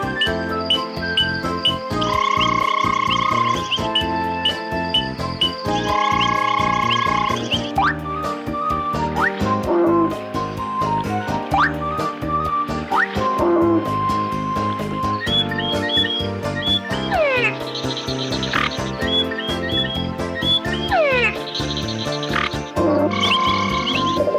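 Frogs croak and chirp in rhythmic bursts over a bouncy musical backing of whistles and tinkling tones, loud and continuous.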